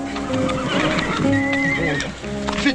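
A horse whinnies loudly and close by, a long, wavering neigh with a few hoof clops, set among the horses of an old Western ranch scene.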